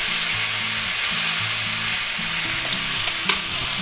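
Chuck steak fries in a pan with a steady, close hiss of sizzling fat, continuous and fairly loud, with faint music underneath and one small clack near the end.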